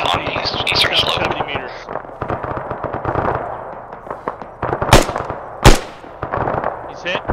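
Arma 3 gunfire during a large multiplayer airfield assault: rapid automatic bursts and single shots crackle continuously, with a couple of louder, sharper reports near the end, under intermittent radio chatter.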